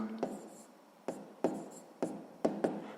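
A pen writing a math equation by hand on paper: soft scratchy strokes in short bursts separated by brief pauses, quiet and close.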